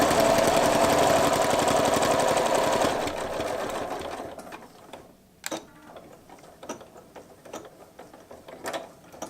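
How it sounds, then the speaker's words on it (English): A sewing machine with a couching foot stitches quickly in a steady, close mechanical rattle for a few seconds, then falls to scattered faint ticks and clicks. "feed it into the couching foot, and I'm going to sew this up a little ways"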